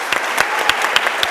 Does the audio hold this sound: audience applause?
yes